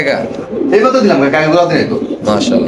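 Pigeons at a farm coo in throaty rolling calls close by, mixed with people talking nearby throughout.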